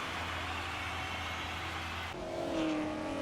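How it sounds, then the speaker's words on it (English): A 1957 Formula One race car at the French Grand Prix at Rouen roars past, loud and steady, then drops to a lower, fading engine note as it pulls away. "On the 6th Tour of Rouen, Carlos Menditegui puts the power down and slips past Herbert Mackay Fraser with effortless Argentinian flair."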